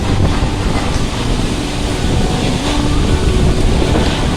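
Strong stormy pre-monsoon wind in a village roars and gusts continuously, buffeting the microphone with a loud, rushing, unbroken noise.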